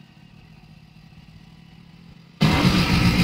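A motorcycle engine abruptly fires up after a quiet, faint hum, then runs loud and close with a steady mid-pitched rumble, no talk heard.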